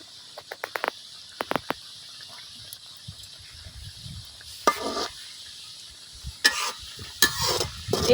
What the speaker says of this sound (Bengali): এই বিস্কিটগুলো আমি একইভাবে ভাজা লিয়াম